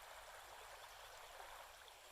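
A quiet stream of flowing water trickles and rushes evenly, faint and continuous, with no voices over it.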